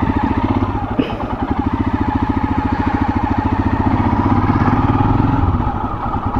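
A Royal Enfield Himalayan BS4 motorcycle's single-cylinder engine runs close by with a loud, steady, rapid thumping beat that holds evenly throughout.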